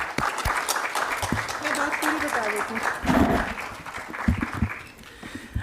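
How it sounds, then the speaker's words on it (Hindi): Theatre audience at a lifetime achievement award ceremony applauds under ongoing amplified speech, the clapping a steady wash beneath a speaking voice, swelling briefly near the middle. "तालियां जोरदार."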